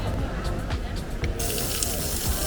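Strong stream of water gushing from a lion's mouth fountain at the Balcony of Europe in Nerja, a continuous close splashing rush with faint voices underneath.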